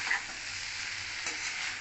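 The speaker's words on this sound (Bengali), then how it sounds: "আমি ভালো করে এখন নাড়াচাড়া করে নেব।" Spoon stirring a small-fish curry (mourola) with potato and eggplant in a pan, a steady sizzling scrape and hiss, close and continuous, with no talking.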